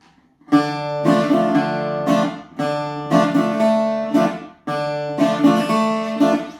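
A plucked string instrument strums a lively, faster bayo rhythm pattern in repeated bursts, chords ringing bright and close with short pauses between phrases.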